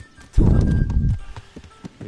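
A horse in the PS4 Pro game Kingdom Come Deliverance gives a short, loud, low burst, likely a snort or whinny, followed by a few light hoof clops.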